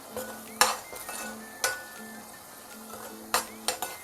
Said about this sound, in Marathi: आलं लसूण मिरची कोथिंबीर त्याचे पेस्ट करून घेतली ती टाकते आता मस्त दोन तीन मिनिटं शिजवून घेऊया